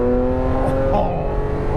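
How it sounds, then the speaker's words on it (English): A Ferrari 512M, the last of the Testarossa line, revs its engine, a loud, steady mechanical roar that swells and falls over a couple of seconds, with a voice speaking over it. "This is what a Ferrari should sound like."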